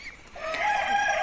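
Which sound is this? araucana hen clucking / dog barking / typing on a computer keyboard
araucana hen clucking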